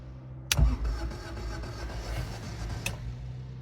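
Toyota Tercel with a swapped DOHC engine in a 4wd setup starting up: a sharp click and brief cranking burst, then a low, faint idle that runs on with another click near the end.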